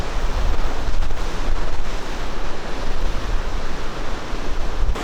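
Sea waves wash steadily onto the rocky East Sea shore at Yeongdeok, a continuous broad surf roar with some wind buffeting, close and fairly loud with no voices.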